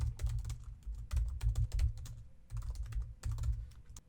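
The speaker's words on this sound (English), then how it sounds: "Then I'm just going to start typing a function." Rapid computer keyboard typing while writing JavaScript code, keys clacking in quick close-up bursts separated by short pauses, with no voices.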